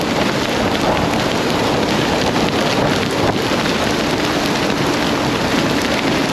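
Heavy rain pours down steadily and loudly during a ride on a NIU MQI GT Evo electric scooter, a dense hiss with wind mixed in, continuous and close.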